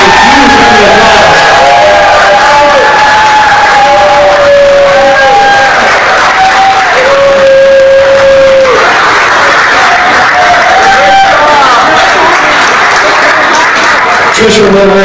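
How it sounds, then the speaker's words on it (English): An audience at a community forum applauds and cheers for council members, loud continuous clapping and crowd noise with whoops, and tonal sounds running through it. "Give them a huge round of applause."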